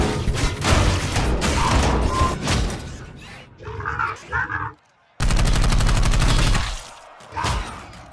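Repeated gunfire bursts from shooting evil robot aliens in the video game Dark Void, loud and dense, with a brief quieter gap and a sudden cut back into heavy firing, plus scattered mechanical crashes.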